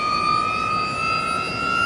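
A 1000 hp Porsche electric racecar at full throttle, giving a loud, steady high-pitched electric motor whine with a rising tonal scream over road and wind noise, continuous for about two seconds.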